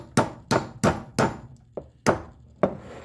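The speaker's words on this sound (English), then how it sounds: "I'm going to start hammering that in." A steel wedge being hammered into the wooden handle inside an axe head: six sharp, loud, evenly spaced blows, one lighter tap among them, each ringing briefly with a woody knock.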